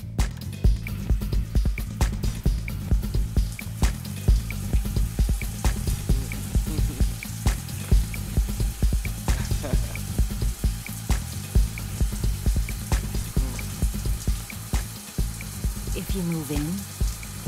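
Water dripping and splashing from a broken faucet indoors, a steady stream of irregular drips and spatters throughout, with faint movement noises underneath.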